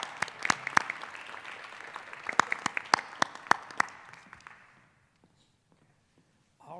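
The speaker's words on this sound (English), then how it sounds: "Let's give them a round of applause." A small audience at a school district board of trustees meeting gives a sparse round of applause: a dozen or so distinct, crisp claps over about four seconds, tapering off into near silence.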